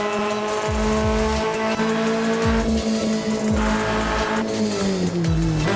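Engine of a 650hp Mitsubishi Evo X in the racing game Assetto Corsa, revving hard and climbing through several rapid gear changes, loud and continuous with a brief tire squeal.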